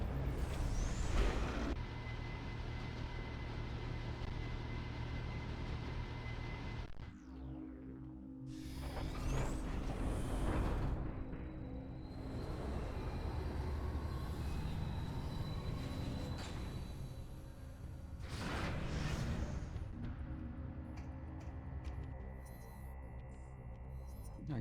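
A tram in Metroid Prime 3: Corruption rumbles along steadily with mechanical droning, whooshing swells and a high metallic whine, continuous and fairly loud throughout.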